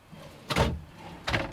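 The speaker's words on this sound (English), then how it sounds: "you've got 2 drawers within a single door here, again all run off of the Blum runners" Two quick sliding sweeps, about a second apart, come from drawers on Blum runners in a camper van built on a 6-meter Promaster/Ducato. They are fairly close and there is no talking.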